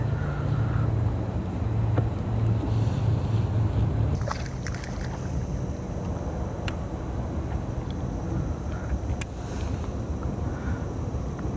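A fishing boat turns slowly on a lake while bass fishing, giving a steady low rumble of motor and water with wind buffeting the microphone, loudest in the first four seconds before easing to a softer constant wash.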